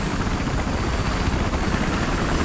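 Continuous loud helicopter rotor thrum in the video game Battlefield Hardline, with a dense low rumble and whine, steady throughout, no voices.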